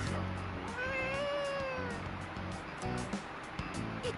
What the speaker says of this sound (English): Is that a cat's meow?